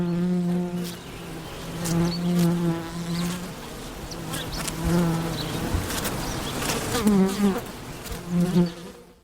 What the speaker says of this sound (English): We close with the sound of her hives.